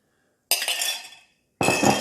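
A slotted spoon scrapes and clinks in a bowl of grated cucumber as watery liquid is scooped out, giving two close, bright metallic scraping strokes separated by a short silence.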